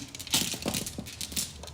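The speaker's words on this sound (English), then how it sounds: "have 12 zodiac signs in this pouch, shuffle them around" Twelve small zodiac-sign tokens rattle and clink together as they are shuffled inside a pouch, producing several quick, close bursts of crisp clicking and rustling at low volume.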